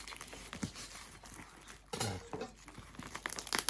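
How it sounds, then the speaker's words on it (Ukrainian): Thick plastic parcel packaging being torn open by hand, with scattered crinkling and rustling bursts, a stronger ripping burst midway, close and fairly quiet. "Пакет плотний. Так. Будемо роздирати, як є."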